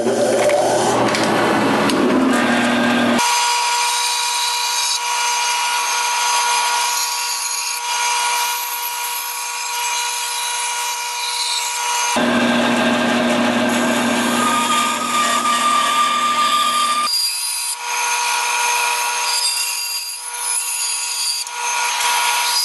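A bandsaw hums steadily, with its pitch and grit rising as the blade cuts through wood in two long passes, loud and close.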